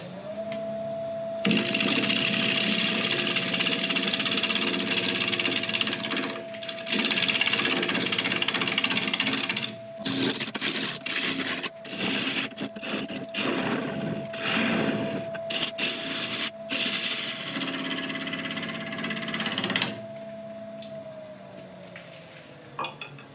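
Wood lathe spinning a burl bowl blank, a steady motor hum under scraping and rubbing tool contact, with broken, irregular cutting noise in the middle before the lathe winds down.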